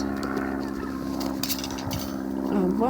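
Alerted turkeys call from close by in a farm flock, their honking, gobbling cries rising and overlapping over a steady background hum, growing louder toward the end.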